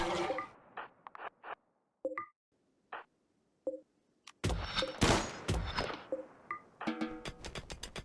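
Colonists open fire on a mech hive in RimWorld, game gunfire arriving as scattered isolated shots at first, then a dense burst of rapid overlapping reports building into sustained volleys near the end.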